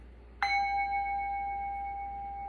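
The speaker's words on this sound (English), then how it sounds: "tapping it to get that sound is just as fine as taking the mallet around the rim" A single tap sets a Tibetan singing bowl ringing, a clear sustained tone that hangs on and fades slowly in a quiet room.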